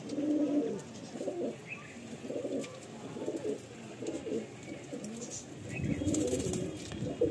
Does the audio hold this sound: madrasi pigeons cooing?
yes